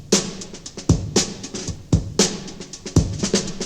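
Sampled drum break, a loose acoustic kit pattern with punchy kicks, snare hits and busy hi-hat ticks repeating in a steady groove, loud and alone.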